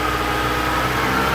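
A Mitsubishi ASX four-wheel drive runs with its drivetrain engaged, giving a steady, close mechanical hum and whine with no variation over a brief moment.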